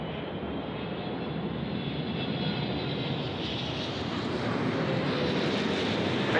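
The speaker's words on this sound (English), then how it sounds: "Emirates on finals here now, runway 25. We've had some big ones. Now it's time for the triple, the 777." An Emirates Boeing 777 lands on runway 25 at Sydney Airport on a windy day, its jet engines producing a loud, continuous roaring wash that swells slightly as it touches down.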